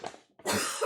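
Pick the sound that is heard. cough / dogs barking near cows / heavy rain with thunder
cough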